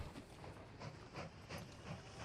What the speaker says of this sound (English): Off you go, train.